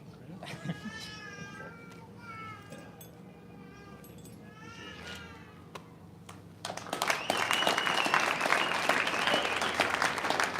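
A firefighter academy graduation crowd bursts into loud, sustained applause mixed with cheers. Before it comes a stretch of quieter, high, warbling vocal calls over a room murmur.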